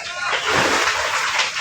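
Water sprayed onto a house fire gives a loud, steady hissing rush that swells and holds for a moment, with faint voices underneath.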